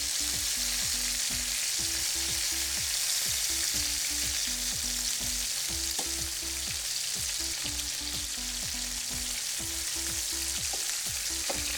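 Onions fry in a pan for Filipino adobo, a bright continuous sizzle with a regular low rhythmic pulsing from steady stirring, close and even in loudness with no voices.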